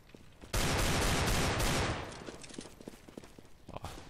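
In a Counter-Strike match on de_dust2, a sudden loud burst of rapid gunfire erupts, then fades into scattered, fainter shots and clicks.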